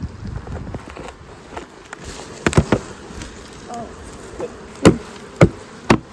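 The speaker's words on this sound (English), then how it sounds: "Keep the bees in. What are these little things walking around? Bees." A soft, steady buzz of honeybees hums in the background during a hive split, broken by several sharp close knocks and scrapes of tools on the wooden hive.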